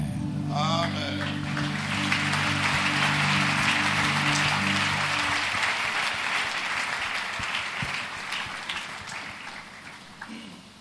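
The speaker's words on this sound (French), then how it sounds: "Alors, les applaudissements" A steady wash of audience applause at a French-language church broadcast, dense and sustained for several seconds before slowly fading, with a brief tonal sound near the start.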